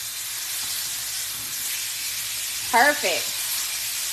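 Chicken breast sears in hot oil in a pan, a steady broad sizzle running throughout with a brief louder hiss near the end, a voice speaking a single word over it.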